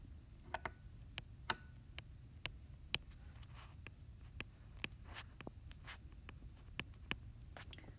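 A marker or chalk writing on a board during a math lesson on functions; a string of sharp, light taps and strokes comes at an irregular pace, faint and close, with no talking.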